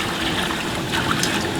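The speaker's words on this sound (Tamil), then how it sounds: "இப்போ தண்ணி ஊற்றிடலாம்." Water pours into a large pot of biryani masala with a steady gushing trickle, close and fairly loud, with a brief splashier surge near the end.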